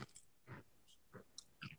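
Someone crunches a fortune cookie, several distinct bites and chews spaced across a short stretch, close and crisp against a quiet background.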